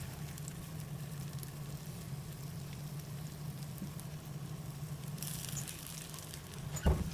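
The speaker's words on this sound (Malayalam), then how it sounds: "മീഡിയം ഫ്ലെയിമിൽ വെച്ച് ഫ്രൈ ചെയ്തെടുത്താൽ മതി മുട്ട പൊട്ടിത്തെറിക്കാനുള്ള സാധ്യതയുണ്ട്" Malabar steamed egg fry crackling and pattering softly in a pan over medium flame, a steady quiet sizzle with a brief clatter near the end.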